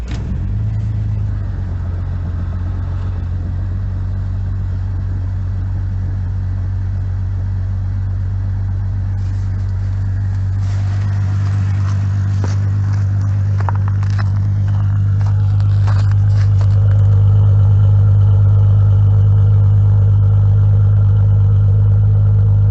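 A Jeep with a Flowmaster Super 44 muffler cold starts at -10°F and settles into a deep, loud, rumbling idle, with the engine note rising and growing heavier partway through.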